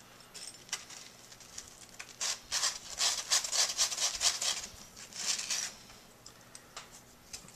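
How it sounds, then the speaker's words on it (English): Small clacker pieces being sanded with high grit sandpaper, a dry scratchy rubbing in quick back-and-forth strokes that builds to a dense burst and then tapers off, close with no talking. "I'm just going to sand them a little bit with a very high grit sandpaper."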